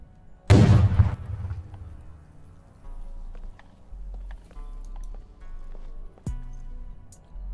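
A frag grenade explodes with a loud, sharp boom in the tactical shooter Ground Branch, then fades into quieter rumbling and scattered noise before a second sharp report near the end.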